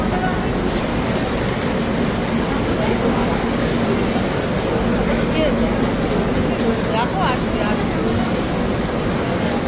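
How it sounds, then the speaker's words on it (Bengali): A train pulls into a station platform with a loud, steady rumble and rolling noise that holds throughout, while voices mingle underneath. "এই যে আমাদের ট্রেন দিয়ে দিয়েছে, ট্রেন ঢুকছে।"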